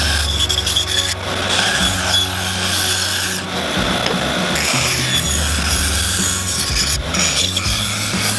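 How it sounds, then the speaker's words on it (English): Coarse, rasping abrasion on a wood turning, likely sandpaper against spinning wood on a lathe, a continuous close scratchy rub with a low motor hum beneath and small changes in pressure, no voices. "A lot of sanding."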